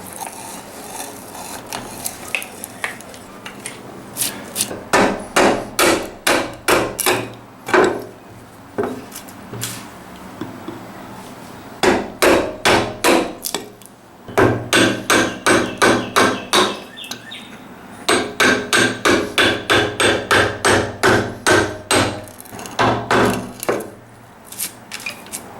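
Rapid bursts of sharp hammer strikes on wood, loud and close, in rhythmic volleys separated by short pauses.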